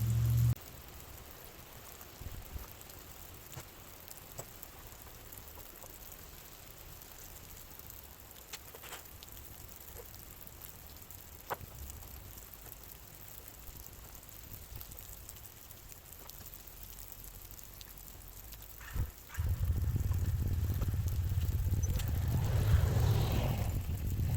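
Steady rain in central Washington in August, a soft continuous patter with a low rumble throughout that grows noticeably louder and heavier near the end, no voices.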